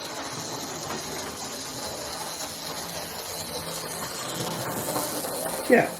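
An old Mainline split-chassis model locomotive, at least 39 years old, runs around a model railway track, giving a steady, close whirring hiss throughout with a brief louder click near the end.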